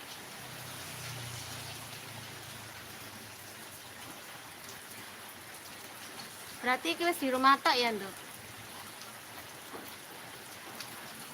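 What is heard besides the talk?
rain falling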